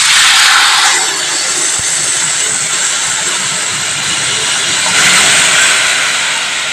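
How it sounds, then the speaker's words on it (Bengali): Water poured into a pan of frying bitter gourd and potatoes sets off a loud, close, continuous steam hiss and sizzle that surges at the start and again near the end. "এবার আমি এর মধ্যে কিছুটা পরিমাণ জল অ্যাড করছি।"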